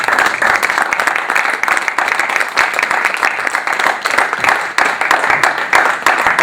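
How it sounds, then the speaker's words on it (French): A comedy show audience warmly applauds a volunteer, dense continuous clapping from a crowd, loud and close, holding steady throughout. "Je vous demanderai de l'applaudir chaleureusement"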